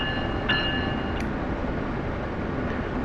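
A train in Train Sim World on a New York City route runs with a steady, continuous low rumble and rolling noise, without voices.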